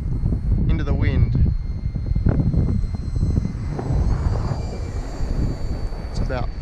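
A Lippisch P.15 RC plane with a 64mm electric ducted fan flying on a 4s battery, its fan whining steadily at partial throttle outdoors amid wind noise, while people talk nearby.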